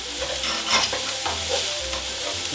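Shallot sweats in melted butter in a pan, giving a steady, close sizzle broken by soft spatula strokes scraping and stirring through it.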